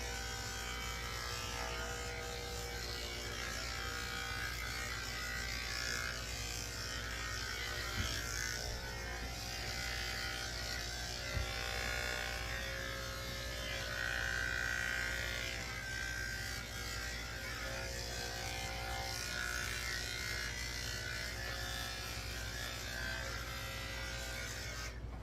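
Electric dog clippers with a blade trimming a toy poodle at the groomer, a steady close buzzing hum that runs unbroken for the whole stretch, with faint rubbing as the blade moves through the coat and no talk.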